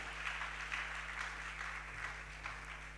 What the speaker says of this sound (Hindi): उन युवक लोगों के सम्मान में ताली बजा तो अच्छी बात है